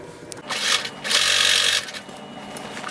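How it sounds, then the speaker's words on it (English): A sewing machine stitches a seam on a cloak in short bursts, with a rapid close mechanical whir that surges twice and then eases off. "You're going to sew this seam with the 3/8 inch seam allowance and backstitch when you start and when you stop."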